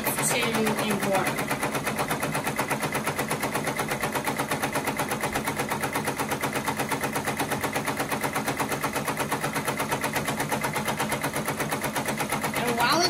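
An embroidery machine stitching 3D puff embroidery on a hat, with a rapid, steady mechanical rattle of needle strikes that runs continuously and stays close and loud.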